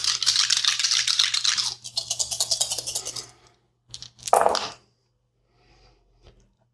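Dice rolling in an Axis and Allies board game: a dense clattering rattle of several dice tumbling in a tray for a few seconds, followed by a couple of sharper clacks as they settle.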